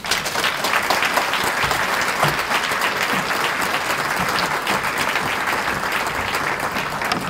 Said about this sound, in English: Let's give the Speaker of the Texas House another round of applause.